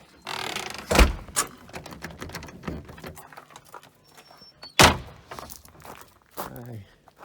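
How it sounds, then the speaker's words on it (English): A door at a family lodge is shut and latched with a few loud knocks and a rattle, near and sharp, mixed with rustling and a speaking voice. "lock this door behind me."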